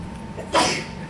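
A single short, sharp sneeze bursts out near the middle against a quiet room background.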